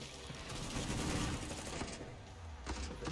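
Rapid gunfire rattles in bursts while shooting enemies in the video game Killing Floor, a dense, continuous barrage with no talking over it.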